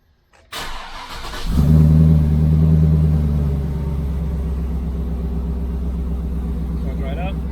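GMC Quadrasteer pickup truck engine cranks briefly and catches, settling into a steady, loud idle rumble after a short startup surge, heard alone without talk.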